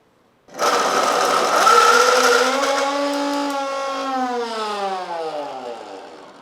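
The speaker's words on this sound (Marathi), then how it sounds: "आता याला आपल्याला मिक्सरमधनं बारीक करायचं आहे" A mixer grinder grinding soaked soya chunks starts abruptly and whirs loudly nearby, its motor pitch dropping steadily as the blades work through the chunks.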